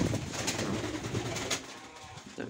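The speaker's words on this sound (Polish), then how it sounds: "Gołąb wysokolotny." A female high-flyer pigeon coos in a dovecote, soft repeated low calls close by, with a few sharper flutters or taps mixed in and no talking.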